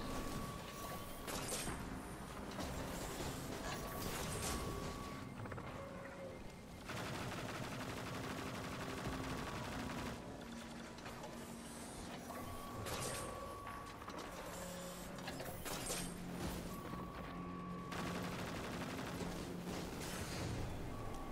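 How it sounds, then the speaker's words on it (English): Leviathan's Breath bow shots in Destiny 2 during a lost sector boss fight: a dense, loud stream of weapon fire, booms and mechanical clatter, with several sharp whistling accents spaced a few seconds apart. "That generally consists of about 2 to 3 shots of Leviathan's Breath."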